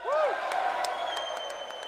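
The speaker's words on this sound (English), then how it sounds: "their applause is not that impressive either" Members of Congress applaud the President's entrance in the chamber, a steady wash of clapping that stays at a moderate level throughout with a few louder claps standing out.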